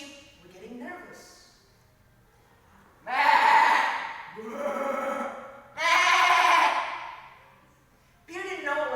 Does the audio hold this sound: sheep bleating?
yes